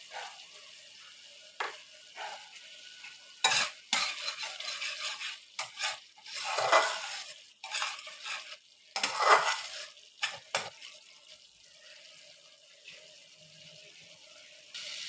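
Masala spice paste sautés in a pan while being stirred, giving intermittent bursts of sizzling and scraping between quieter stretches, close and irregular.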